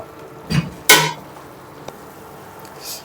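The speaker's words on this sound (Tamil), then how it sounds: "சிக்கனை நல்லா கிண்டி விட்டுக்கோங்க" Chicken is stirred in a pan for a bachelor-style African chicken curry: a couple of sharp utensil clinks and a brief scrape against the pan, then a faint tick amid quiet.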